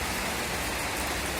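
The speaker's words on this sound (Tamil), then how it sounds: "பார்த்தீங்களா எப்படி மழை பெய்யுதுன்ட்டு?" Heavy rain pours steadily in Gudalur in the Nilgiris, a dense, even hiss of drops on surfaces with a low rumbling wash underneath, continuous and close throughout with no voices.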